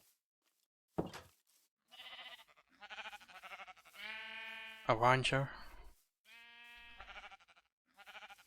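Sheep bleat repeatedly in a Minecraft village modded with TekTopia, several wavering, buzzy calls in quick succession, mixed with a voice talking over the game.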